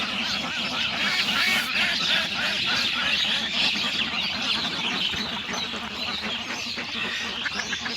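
Domestic ducks on a village duck and fish farm quack loudly and continuously as a dense, overlapping flock close by, with no talking.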